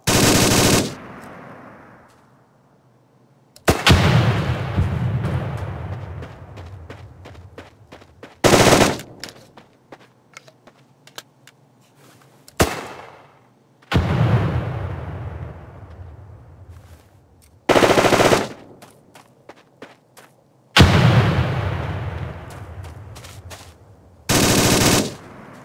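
Bursts of automatic fire from an M249 squad support weapon in America's Army 3, about six loud sustained volleys separated by pauses, each followed by a ringing echo and scattered shell-like clinks.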